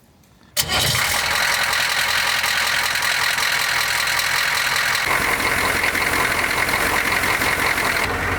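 A Humvee engine cranks and catches, then settles into a steady, loud, rumbling idle close by, with a slight shift in tone partway through.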